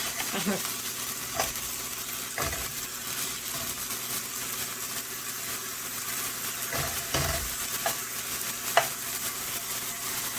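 A taco-seasoned hamburger patty fries in a pan with a steady, close sizzle, broken by a few dull thumps and scrapes as it is flipped and pressed down.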